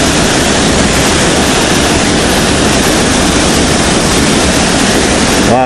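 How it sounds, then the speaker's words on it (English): Waterfalls in a small bay, heard from a kayak: a loud, steady, broadband rush of falling water that fills the whole scene without pause. "We are on a kayak in a little bay with some waterfalls all around us."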